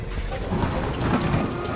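Rain pours steadily with low thunder rumbling through it, a dense and constant wash of sound in a dramatic TV scene, with no voices.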